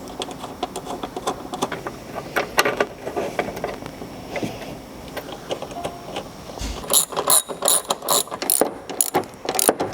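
A ratchet wrench clicks in quick bursts of pawl ticks as bolts go back into a headlight during an LED headlight install, the ratcheting growing louder and sharper in the second half, close up with no talk.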